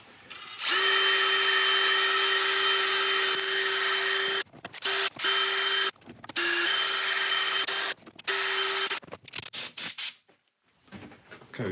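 Compressed air blowing dust off a turned wood burl, loud steady hissing bursts with a tonal whine, cut into several short blasts and stops toward the end.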